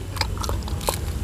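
Bites into crunchy fried eggplant fritters, several sharp, close crunches spaced unevenly across a second, each crisp crackle standing out clearly over a quiet background with no talking.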